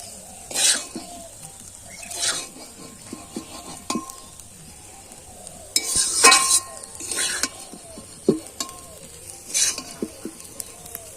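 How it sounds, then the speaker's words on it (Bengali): Egg chow mein being stir-fried in a pan: bursts of sizzling come and go as metal utensils scrape and clink against the pan in an irregular rhythm, close and fairly loud, with no talking. "দেখুন বন্ধুরা কত ভালো করে চাউমিনটা ভাজা হয়ে গেছে"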